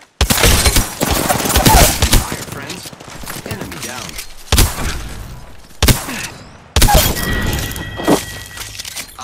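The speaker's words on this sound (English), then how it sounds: "Shots fired at me." Gunfire in the battle royale game Apex Legends: loud, close bursts of rapid shots broken by short pauses, with heavy thuds and impacts across several volleys.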